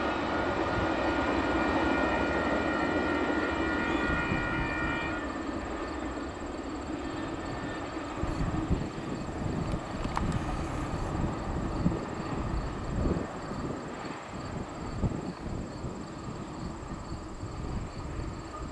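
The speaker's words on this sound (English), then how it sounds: "we got an eastbound UP here in Montour, Iowa. It's gonna take the crossover from track one to track two." An eastbound Union Pacific freight train loaded with ethanol rolls through Montour, Iowa, taking a crossover from track one to track two, its steady rumble giving way to clattering wheel and rail joint noise that goes on nearby, with no talk.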